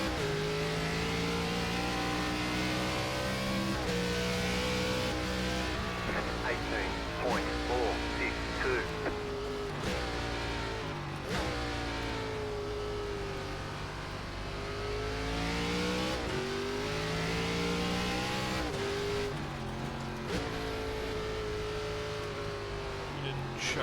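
Race car engine in the iRacing game, an ARCA West Series NASCAR car at Sonoma, revving loudly and continuously with pitch rising and falling through downshifts, a voice talking over it.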